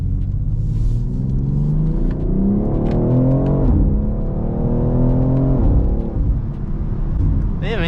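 Stock inline-six SUV engine accelerating hard, revs climbing through successive gears with a smooth rising drone heard from inside the cabin, while occupants talk over it.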